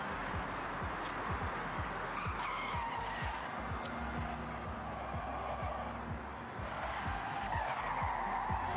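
An Audi in Forza Horizon 6 driving in reverse, a steady engine drone with repeated tire skids and squeals throughout, continuous and fairly close.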